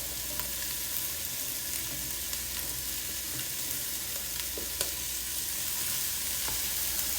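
Red bell pepper and other vegetables sizzle steadily in a hot pan for a shrimp and cauliflower stir fry, a constant frying crackle with occasional sharp pops and scrapes.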